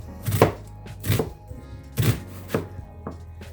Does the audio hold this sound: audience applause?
no